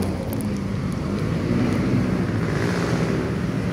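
Strong wind buffets a microphone while fishing for tarpon, a loud continuous low rumble with a hiss of water or surf beneath, no voices.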